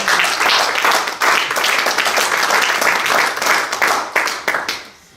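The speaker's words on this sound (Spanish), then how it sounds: "Denle un aplauso al Señor." A church congregation claps and applauds continuously, dense and fairly loud, fading out near the end.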